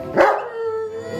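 A single loud dog bark rings out close by, followed by a brief fading whine.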